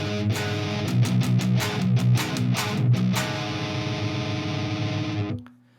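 A seven-string guitar played through a Fender Tone Master Pro with an EVH amp model, heavily distorted: chugging palm-muted riffs with sharp chord stabs for about three seconds, then one sustained ringing chord that cuts off abruptly.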